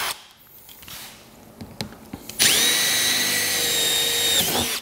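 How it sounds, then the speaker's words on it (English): Drilling holes in a motorcycle saddlebag lid for a 6x9 speaker cut-in kit. A few quiet handling knocks come first, then a loud, steady power-drill whine takes over up close for the second half. "I've drilled two holes in the top of this lid for access to our bit."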